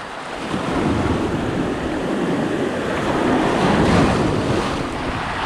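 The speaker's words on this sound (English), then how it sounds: "biggie waves" Big ocean waves breaking on a Koh Samui shore on a morning walk, a continuous roaring wash of surf with strong wind buffeting the microphone, no voices.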